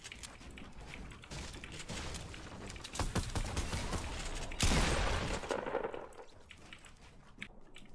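Heavy sniper rifle shots in Fortnite, fired across a battle between two hilltops, come as sharp repeated cracks over a busy layer of game noise, with one loud blast partway through.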